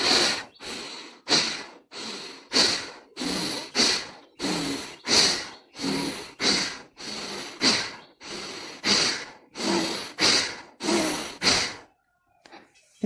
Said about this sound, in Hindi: झोंके से सांस को अंदर भरना है और झोंके से सांस को बाहर करना है।